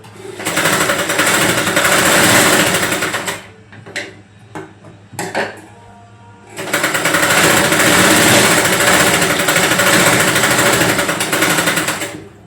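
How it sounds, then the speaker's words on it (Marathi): A sewing machine stitches a sleeve hem in two long, loud bursts of rapid mechanical whirring. Between them comes a quieter gap of brief clicks and handling noises. "त्याला पूर्ण अशी शिलाई मारून घेऊया"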